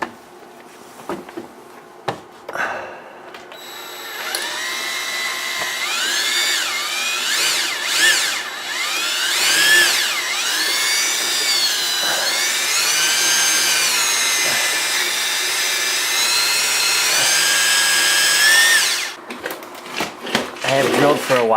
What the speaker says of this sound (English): Got a left-handed drill bit here.